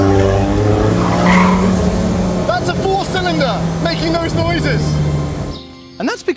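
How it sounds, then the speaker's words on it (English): A Kimera EVO37 with a supercharged 2.1-litre four-cylinder engine revs hard with squealing tyres and rising, falling engine notes, loud and close throughout before cutting off near the end. "That's a four-cylinder making those noises."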